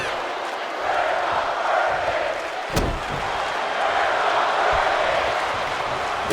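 Arena crowd in the WWE 2K25 wrestling video game, a broad steady roar of many voices with a sharp slam partway through, filling the whole stretch with no commentary over it.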